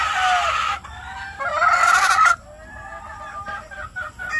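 Rubio gamefowl in a breeding pen let out loud, close crows and harsh honking clucks, with a long call at the start, another in the middle and shorter broken calls near the end.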